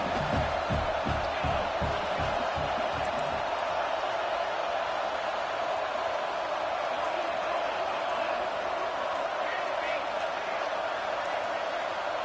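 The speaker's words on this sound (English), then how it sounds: "And with this place rocking, the crowd forces a false start." Roaring stadium crowd at a UCLA college football game, a dense, steady wall of cheering and noise sustained throughout, loud and unbroken, with some low thumping early on.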